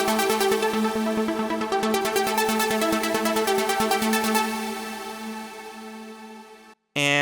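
A sustained synthesizer tone with rich harmonics, its filter cutoff modulated by an envelope, pulses rhythmically as its brightness sweeps and gradually mellows, then cuts off abruptly before a new note starts.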